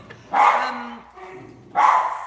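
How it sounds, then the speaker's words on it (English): Two short barks from a nearby dog, spaced about a second and a half apart, with little else around them. "when the dog is barking"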